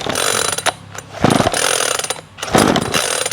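Repeated rough bursts of a small EFCO MTH402 chainsaw engine sputtering as the starter is pulled, three or four tries in a row, loud and close.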